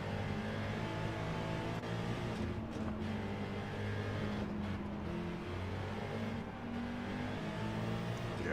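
Touring race cars from Gran Turismo 7 at Barcelona-Catalunya drone along with a steady, droning engine hum, a constant mechanical roar with slight shifts in pitch and no clear passes, fairly quiet throughout.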